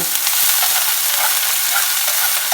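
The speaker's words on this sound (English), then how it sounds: "Then we add our onions." Onions fry in oil over a low flame for chicken lasagna, giving a loud, steady hiss and crackle that holds evenly throughout with no talking.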